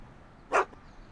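A single short dog bark from a Back to the Future video game, a brief mid-loud yelp standing alone against quiet background.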